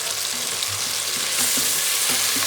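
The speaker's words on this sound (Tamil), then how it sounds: "இது நல்லா வதங்கட்டும்." Rice mixture with fresh mint sautéing in a pan for tomato rice made with seeraga samba rice, a steady close sizzle with soft rhythmic stirring scrapes.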